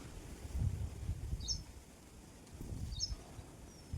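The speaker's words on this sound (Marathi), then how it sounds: "वारा पण आहे थंडी लागत आहे खूप" Low rumbling wind gusts outdoors in a farm field on a cold day, rising and falling, with a couple of faint bird chirps far off.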